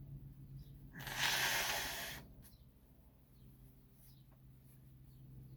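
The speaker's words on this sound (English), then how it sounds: "First, let me blow my nose." A single short, breathy blast of nose blowing, close and fairly loud, with quiet room hum before and after.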